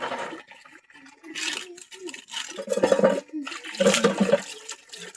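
Water runs and splashes in bursts for washing outdoors, surging loudly twice near the end, with a voice talking intermittently in between.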